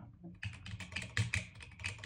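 Typing on a clacky split mechanical keyboard, a budget prebuilt Silakka54 model; a quick, uneven run of crisp key clicks and clacks, close and fairly quiet.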